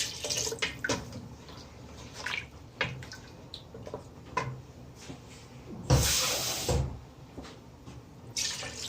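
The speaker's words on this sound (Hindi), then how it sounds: "ये इसमें लगभग मैंने 3 पाव पानी डाल दिया।" Roughly three quarters of a litre of water poured into a pressure cooker holding mutton korma, with a bright splashing burst near the middle and a few softer clinks and taps of pot handling around it.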